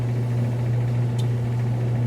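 A Haier portable clothes dryer runs on a high-heat timed cycle, giving a steady, even low hum with a constant airflow whoosh, loud and unbroken throughout, with one brief faint click partway through.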